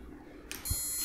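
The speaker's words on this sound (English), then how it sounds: "And we've got the beep noise again" A sustained high-pitched computer motherboard fan-failure warning beep starts abruptly and holds steady, with a brief low thump underneath and a faint hum before it.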